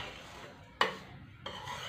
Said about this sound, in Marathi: असाच मी एकसारखा हलवत हा रवा भाजून घेतलेला आहे